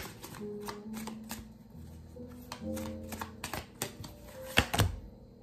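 Tarot cards being handled and shuffled, a run of quick soft riffling flicks and taps at close range, building to a couple of sharper snaps near the end, with no voice.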